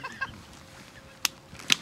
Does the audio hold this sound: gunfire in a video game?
no